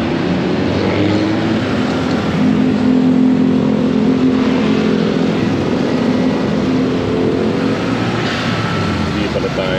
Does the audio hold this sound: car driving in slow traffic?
yes